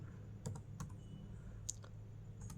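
Sparse computer keyboard typing, a handful of light, separate key clicks close by in a quiet room, unevenly spaced with gaps between presses.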